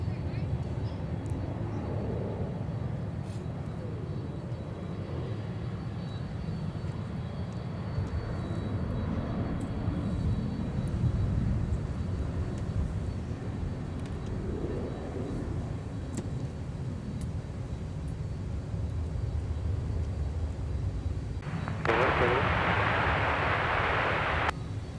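Sun Country airliner on final approach to runway 30 left at Minneapolis–St. Paul airport, a low distant engine rumble building gradually, with a brighter roaring burst near the end and radio chatter faintly underneath.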